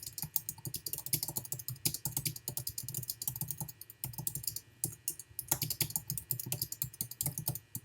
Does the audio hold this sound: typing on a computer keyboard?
yes